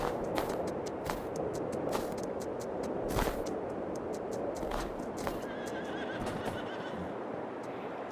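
On a Missouri farm in Farming Simulator 22, horses plod with a constant clip-clop of hooves while whinnies come through, punctuated by sharp percussive hoof strikes, and no one speaks.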